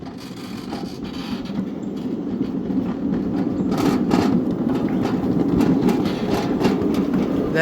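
Train rolling on rails at a club's track beside storage containers, a steady clickety-clack of wheels over joints building slightly louder as it passes, continuous and fairly close.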